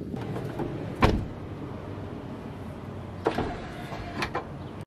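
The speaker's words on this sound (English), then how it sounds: "The Amp Research steps on the side. Open the door." A Toyota Tundra door clunks open, followed by a faint mechanical whir and a couple of soft thuds as Amp Research power running boards extend.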